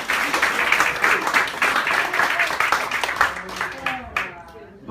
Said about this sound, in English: How about a nice round of applause for all of your volunteers up here?